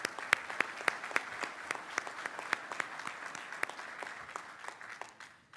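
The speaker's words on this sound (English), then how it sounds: "Another round of applause for Governor Green." Audience at a Land Forces Pacific conference in Hawaii gives Governor Green another round of applause, with sparse, distinct individual claps standing out over a steady bed of crowd clapping that thins toward the end.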